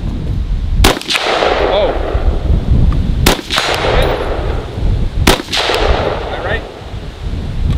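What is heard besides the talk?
gunshots at a run and gun shooting match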